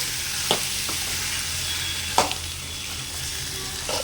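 Cucumber pieces fry in a pan with a constant, even sizzle close by, broken by a couple of soft clinks from stirring, and nobody speaks.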